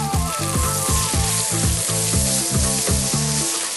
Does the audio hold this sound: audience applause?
no